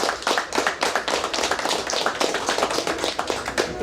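Audience applause at a lecture on old-time cattle drover culture in Brazil, a dense, steady patter of many hands clapping throughout, fairly loud and close, with no talk over it.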